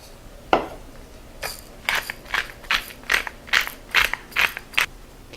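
A pepper mill grinds salt and pepper over a baked veal dish layered with zucchini, giving about nine short, crisp ratcheting bursts in a steady rhythm, close and clear with no talk.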